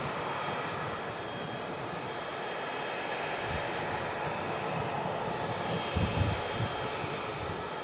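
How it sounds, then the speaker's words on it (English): A Ryanair Boeing 737-800 on approach to Manchester Airport gives a steady, broad jet rumble and whoosh at a moderate distance, swelling slightly near the end. "The Ryanair on approach here."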